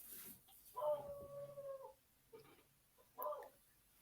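A dog howls and whimpers at a distance, one long drawn-out howl followed by two shorter yelps, faint and heard through a quiet room.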